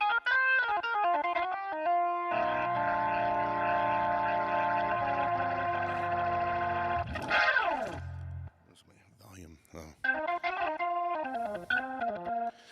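Sustained organ chords on a Yamaha YC61 with a swirling, warbling rotary-speaker modulation, a rising swoop midway, then a brief quiet pause before the playing resumes.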